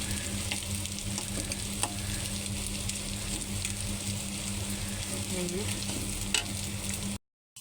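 Dried fish sizzles in hot oil with onions in a pan, a steady dense frying crackle running throughout with occasional stirring clinks, while a person speaks briefly over it.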